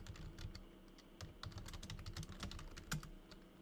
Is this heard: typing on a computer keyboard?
yes